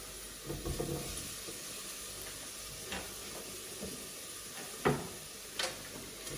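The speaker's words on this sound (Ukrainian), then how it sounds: "Перемішуємо. І нехай далі собі смажиться" Potatoes frying in oil in a pan for pumpkin soup, a steady faint sizzle broken by a few sharp scrapes and knocks of stirring, with no talk.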